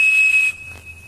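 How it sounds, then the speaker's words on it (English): A Captain Crunch cereal box toy whistle sounds a steady, pure, high 2600 Hz tone for about half a second, loud and close, then fades to a faint lingering ring. "When you blow the whistle into the phone, a little chink sound, that's the acknowledgement coming in from the other side"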